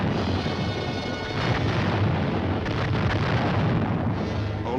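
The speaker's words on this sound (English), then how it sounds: "At H-5, the artillery opens up." Artillery barrage opening up ahead of an infantry platoon attack in the Vietnam War, heard as a continuous dense rumble of blasts and booms with no clear gaps, loud and steady throughout.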